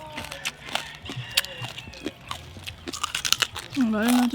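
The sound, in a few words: crunchy bite of crispy lechon kawali (fried pork belly)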